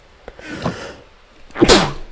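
Two sneezes from one person, a softer one and then a sharper, louder burst, close up with quiet room tone between them.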